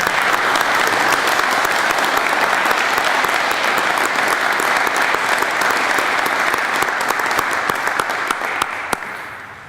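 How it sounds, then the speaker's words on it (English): Sustained applause from an audience at a partnership signing ceremony for a National Science Foundation grant, dense, even clapping close by that lasts about ten seconds before thinning out. "let's have a round of applause for a new partnership."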